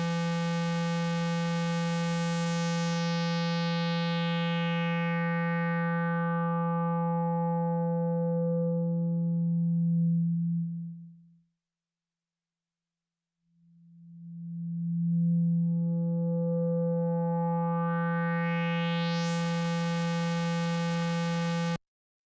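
A Moog Mother-32 synthesizer drones a buzzy harmonic tone as its filter sweeps closed, fading to silence, then reopens and brightens back to full, smooth and without steps.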